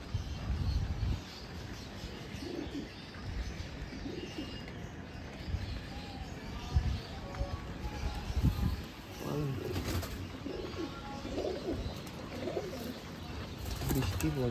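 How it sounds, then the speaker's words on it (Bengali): Pigeons in a loft coo softly, low and intermittent, with some chirps, while someone talks nearby and rain may patter faintly in the background. "এটা মাদি পায়রা।"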